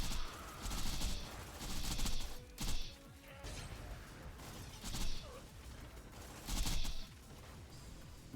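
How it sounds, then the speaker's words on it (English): Gunfire from the Sandhawk gun in a Borderlands-style shooter playing a Snowbound Maya run, sounding as bursts of sharp blasts about every second or two, moderately loud over a steady game backdrop with no talk. "We can literally just shoot him with Sandhawk."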